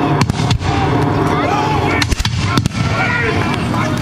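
Musket volley fire at a War of 1812 battle reenactment, with several sharp reports over a constant loud outdoor din of wind and crowd, and a voice talking over it.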